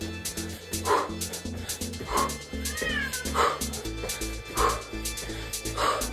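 A cat meows repeatedly, about five loud, close meows at a steady rhythm roughly a second apart, set over rhythmic workout music.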